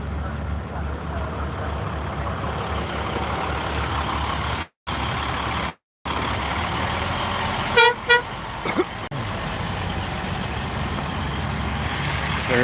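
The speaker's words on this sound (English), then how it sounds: "They're towing it." Tow truck hauling a wrecked car off a highway after a chase and crash, a steady rumble of engine and traffic noise throughout, broken by two brief dropouts and a few short honks or air-brake hisses midway.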